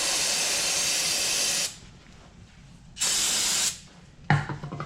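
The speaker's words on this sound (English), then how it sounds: "And then I'm going to spray on the back side here." Two loud aerosol sprays of brake cleaner hiss up close onto a Ford F-150 brake rotor, each about a second and a half, with a short pause between, then a soft clatter.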